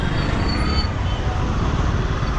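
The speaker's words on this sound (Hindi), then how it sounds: "बेतरतीब ट्रैफिक" Dense, steady, chaotic road traffic noise between Goregaon and Malvani in Mumbai, with rumbling engines and a constant roar of passing vehicles, loud and close.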